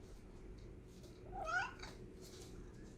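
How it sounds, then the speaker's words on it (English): A house cat gives a single short meow in a quiet kitchen, faint and brief against low background hum. "We have cat interference right now."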